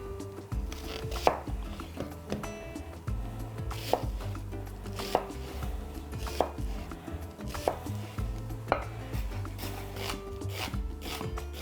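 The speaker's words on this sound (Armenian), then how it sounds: "1 գլուխ սոխը կտրատում ենք մանր և տապակում։" An onion is chopped finely on a board with a knife, steady rapid rhythmic taps repeating close by for about eleven seconds, no talking.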